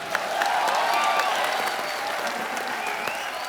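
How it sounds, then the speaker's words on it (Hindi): A television comedy show studio audience claps loudly and steadily, a dense wash of applause that holds at an even level throughout. "तो जोरदार तालियां।"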